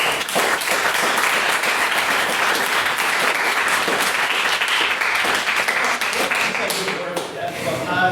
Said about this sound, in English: a big round of applause for the fact that we have no less than 3 maiden speakers in this chamber this evening